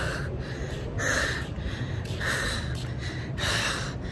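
A person walking toward a highway pants heavily, with rhythmic loud breaths repeating roughly every second, close to the mic and without speech.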